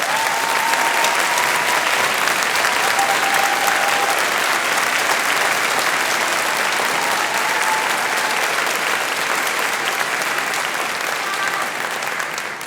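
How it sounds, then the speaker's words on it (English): At an all-city band and choir performance, a large audience applauds the music teachers, a loud, sustained burst of clapping that holds steady and tapers slightly at the end. "please stand up and let's applaud you as well."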